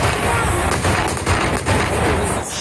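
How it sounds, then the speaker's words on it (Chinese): Dense gunfire crackling through thick ambient noise during a street protest in a Ukrainian town in wartime, loud and continuous rather than isolated shots, with no distinct voices. "接着无数枪声"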